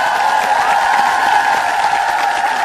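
Sustained applause from an audience at a senior college event after a musical performance, a dense steady patter of clapping filling the whole stretch without pause.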